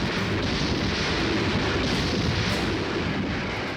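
Massive Soviet artillery fire and aerial bombardment over Berlin in April 1945, a dense continuous roar of distant blasts and rumbling booms that stays loud and unbroken throughout.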